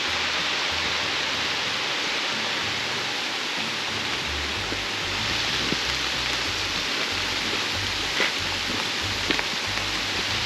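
Steady rain hisses on a forest hiking trail in the White Mountain National Forest, a continuous broadband wash with faint low rumbles and occasional drips.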